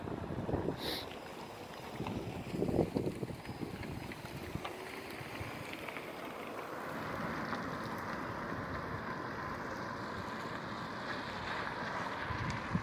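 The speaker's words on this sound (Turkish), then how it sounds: "Acayip rüzgar esiyor." Strong wind roars steadily against the microphone on the coast at Ağva, a continuous broadband rush with low buffeting, no voices.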